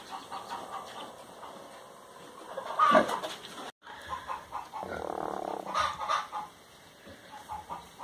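Chickens and chicks in a barn with deep bedding make a scatter of faint clucks and cheeps, louder bursts rising and falling over a quiet background with no talk.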